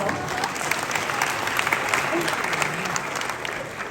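An audience claps at a Balkan federation award ceremony, a steady, fairly loud burst of applause with a faint voice underneath.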